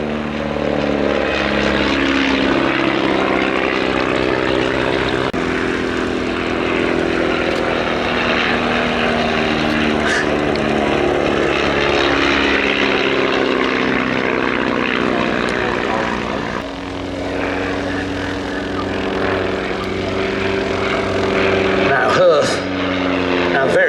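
A propeller-driven fixed-wing aircraft flying an air show display at Little Gransden, its engine droning loud and steady throughout with pitch shifting as it passes, voices talking over it.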